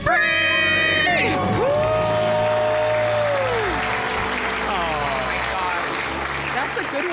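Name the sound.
couple's debt-free scream with audience cheering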